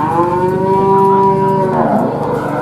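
Cattle at a qurban livestock foundation moo loudly and close, one long drawn-out low call filling the clip.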